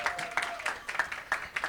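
Light applause from a small audience at an academic panel event, a few scattered claps fairly near and quiet, with no one speaking.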